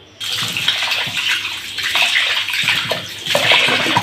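Water splashes and swishes steadily in a container, with gushing sloshing bursts as grains are rinsed and stirred by hand.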